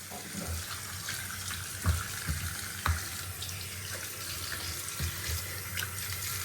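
Water runs and splashes around a bathroom sink during cleaning, a close, steady faucet-like flow broken by a few sharper splashes and knocks, with no talking.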